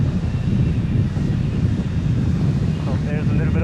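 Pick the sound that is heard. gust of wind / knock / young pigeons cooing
gust of wind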